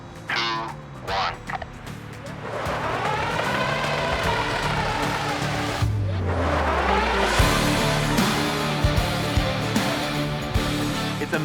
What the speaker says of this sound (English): the noise that it makes, it sounds like a combination of a jet engine, a semi-truck, and an EV